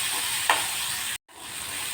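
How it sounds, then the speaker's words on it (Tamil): Turkey berries stirred and sautéed with a little salt in a pan, giving a steady close sizzle with a brief scrape of stirring midway and a short gap before the frying hiss resumes. "கொஞ்சமாக உப்பு சேர்த்துட்டு நல்லா மிக்ஸ் பண்ணி விட்டுருங்க. கொஞ்சம் லைட்டாக வதங்கட்டும்."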